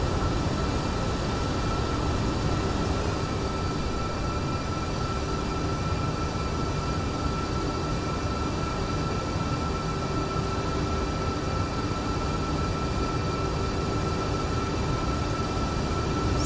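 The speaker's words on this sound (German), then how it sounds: "rollen wir mit der Kraft der drei Triebwerke auf die Bahn" Three engines of an MD-11 airliner taxiing in a flight simulator drone steadily, with a loud, even whine and roar held for the whole stretch without change.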